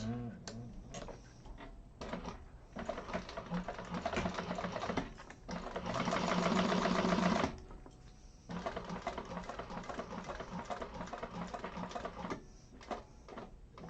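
A sewing machine runs in bursts of rapid mechanical stitching, with a longer steady run in the middle and short pauses between.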